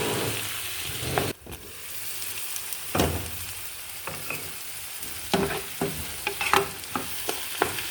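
Continuous sizzling of butter melting in hot olive oil in a pan, with occasional clinks and scrapes of a utensil stirring against the metal.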